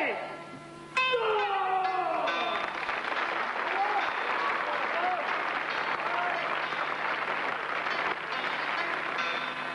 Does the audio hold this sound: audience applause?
yes